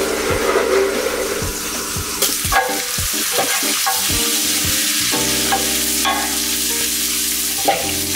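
Onions frying in a pan for achari khichuri give a loud, steady sizzle throughout, broken by repeated knocks and scrapes of a spatula stirring, with a faint trickle of water in the background; no voices.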